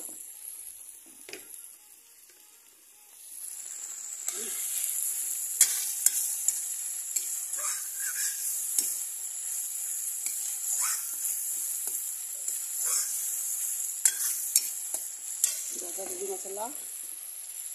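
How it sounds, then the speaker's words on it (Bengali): Spices frying in a pan for a Bengali fish dish, with salt just added: a steady close sizzle and hiss carrying through, interrupted by brief scraping stirs and a few light clinks of utensils. "মশলা ভাজা হয়ে যাচ্ছে।"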